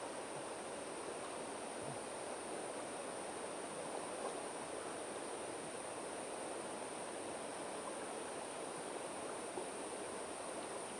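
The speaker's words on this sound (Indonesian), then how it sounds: "Dengerin nih airnya, guys." River water flows in a steady, even broadband rush outdoors, continuous and moderately loud throughout with no talking.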